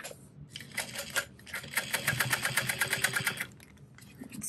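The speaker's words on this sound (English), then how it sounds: "And sew down each side." A sewing machine set to a long stitch length of 5 runs in a quick, steady rhythmic burst while stitching down the side of a Liberty shoulder bag, with brief pauses before and after the run.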